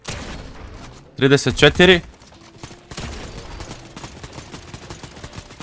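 Gunfire in Fortnite: a short, loud burst of rapid shots, then quieter scattered shots, while a player talks throughout.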